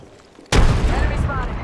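A frag grenade detonates in Apex Legends with a sudden, loud boom after a quiet lead-in, followed by a sustained rumbling, crackling aftermath that lingers to the end.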